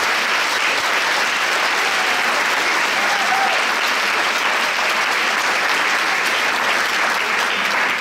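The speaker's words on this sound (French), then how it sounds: "Alors, un autre bonne main d'applaudissements." Conference audience applauding steadily at a congress session, dense uniform clapping from a large crowd held at a constant loud level throughout with no voices on top.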